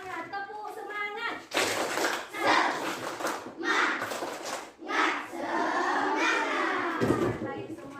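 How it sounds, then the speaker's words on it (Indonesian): Schoolchildren in a morning classroom chant and clap a rhythmic spirit cheer in unison, bursts of voices and hand claps alternating in patterned phrases, loud and close, with a teacher's voice leading between rounds. "mari kita tepuk semangat"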